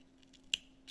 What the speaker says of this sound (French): Alors, je vais couper ici à peu près.